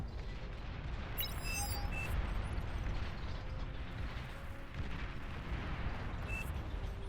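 Explosions tearing through a base in Beyond All Reason, a dense, continuous rumble of blasts and crackling debris with scattered metallic clanks, loud and sustained throughout.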